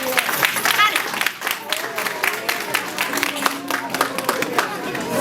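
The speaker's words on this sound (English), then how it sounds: "Can we get a round of applause, please?" A crowd at a school gathering claps for a visiting mayor, with sharp, scattered hand claps close by mixed with cheering and voices from the audience.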